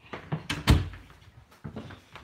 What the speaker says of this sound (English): So I need to close my mom's door.